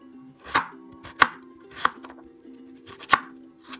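A knife chops radishes into small pieces on a board in five crisp, separate strokes, close and clear over a faint steady hum.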